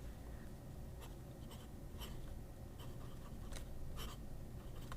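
A Banju Ferris wheel fountain pen with a number 5 nib writes on paper, giving faint, steady scratchy strokes with brief brighter taps as it moves, close up and quiet with no talk.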